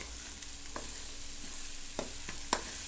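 Boti gongura curry, tripe cooked with sorrel leaves, simmering in a pan, with a soft steady sizzle and a few light stirring scrapes and taps.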